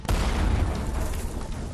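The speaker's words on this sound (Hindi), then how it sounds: "एक साथ 3000 धमाका।" Blasts reported in Lebanon, with thousands of devices exploding at once: a loud booming burst followed by dense rumbling crackle that trails off over nearly two seconds, with no speech.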